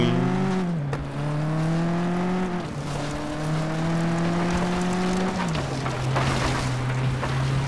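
A racing car engine in the FlatOut 2 video game roars steadily, its pitch stepping up and down with gear shifts, loud and continuous with no talk.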